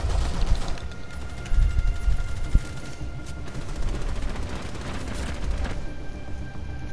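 Gunfire in a ranked match of the video game Rainbow Six Siege: dense, sustained automatic bursts and a few sharper single shots rattle continuously over a steady noisy game background, with no talking.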